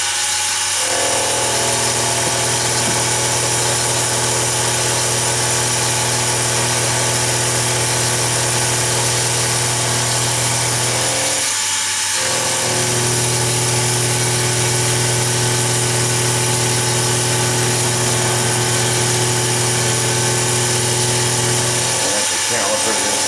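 A metal lathe hums steadily while cutting steel for a boring bar tool holder, a constant loud machine drone broken twice by brief pauses or changes in the cut, with no voices over it.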